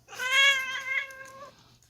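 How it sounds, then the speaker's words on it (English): A cat named Nico gives a single drawn-out, tonal meow lasting over a second, close and fairly clear against a quiet room with a faint hum. "Nico, you have to stop meowing."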